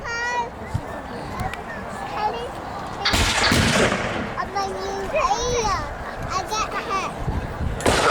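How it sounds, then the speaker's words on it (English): Heavy artillery fire at a Tattershall Castle English Civil War re-enactment booms out in a few distant blasts amid crowd chatter, children's voices and a nearby commentator. "Now the parliamentarians have brought out their heavier artillery."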